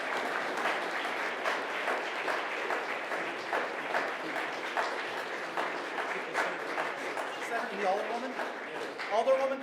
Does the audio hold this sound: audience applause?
yes